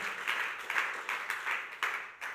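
A live audience applauds in a church service, a steady wash of many hands clapping in overlapping bursts that swell and dip over a couple of seconds.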